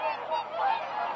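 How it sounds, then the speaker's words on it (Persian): Migrating waterbirds, geese among them, honk and call across a wetland in Gilan, Iran, a dense continuous chorus of overlapping voices heard at moderate distance with no talk. "شکسته شدن سکوت تالاب‌های گیلان با سمفونی آواز پرندگان مهاجر آبزی"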